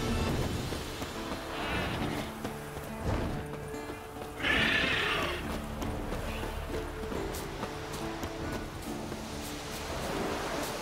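A horse whinnies loudly partway through, over a steady rumbling background with hoof-like clatter and a busy, noisy scene in the video game The Witcher.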